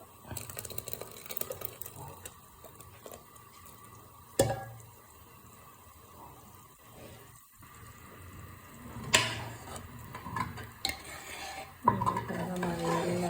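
A spoon stirs cooked sago into a pot of lentil payasam, giving soft scraping and a few sharp clinks against the pot. The sound is close and fairly quiet, and no one speaks.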